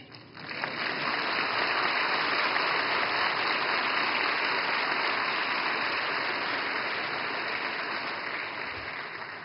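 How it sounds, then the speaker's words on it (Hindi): Applause from a large audience at the Reserve Bank of India's 90th anniversary event, a broad, even wash of clapping sustained for several seconds and heard at a slight distance, like a big hall. "और मुझे खुशी है कि सबसे ज्यादा तालियां इस बात पर पड़ी है।"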